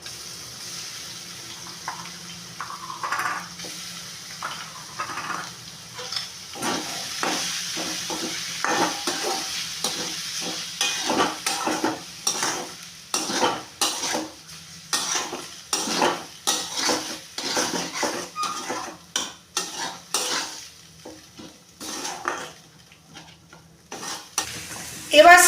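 Boiled fish being stirred into a hot pan for a North Kolkata-style fish kochuri filling, with repeated scraping spatula strokes over a steady low sizzle, close and fairly loud, with no talking.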